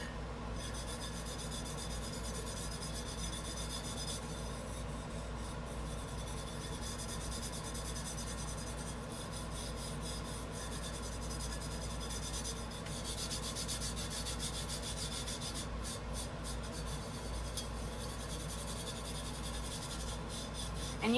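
Glitter is rubbed off a tumbler by hand, giving a steady, soft, dry scrubbing that runs on without a break at low volume, with no voices.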